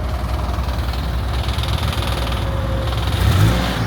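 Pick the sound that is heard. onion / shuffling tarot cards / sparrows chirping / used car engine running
used car engine running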